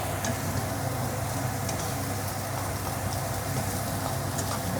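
Chives and beaten egg stir-frying in a wok: a dense, even sizzle runs unbroken for about five seconds, close and fairly loud, with faint scraping of stirring and no voices.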